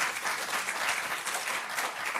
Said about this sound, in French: Je pense qu'il mérite vraiment un applaudissement.